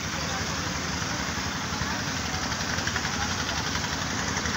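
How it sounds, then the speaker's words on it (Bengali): Sand extraction machines at a riverside sand quarry in Bangladesh run with a steady, dense engine drone and rumble that holds unbroken throughout, close and loud, with no clear talk on top. "সারা বাংলাদেশে যে কোনো জায়গায় বালু পাথর আছে। এই যে অনেক মেশিন বসানো হয়েছে,"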